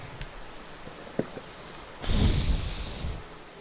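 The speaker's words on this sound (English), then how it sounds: "that's me blowing the mosquitoes off my shooting hand" A few soft clicks, then a sharp, breathy gust of air is blown close to the microphone, fading out over about a second.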